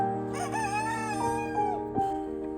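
A rooster crows close by, a long wavering cock-a-doodle-doo followed by a couple of shorter strained calls, over steady low background hum.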